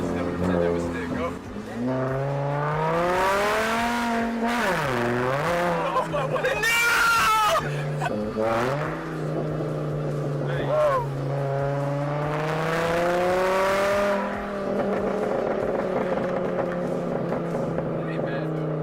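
A car fitted with a straight-piped exhaust and a G35 downpipe drones loudly while driving, rising and falling through several revs and gear changes, with people talking inside the cabin over the exhaust.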